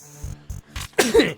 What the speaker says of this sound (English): have a sneeze too coming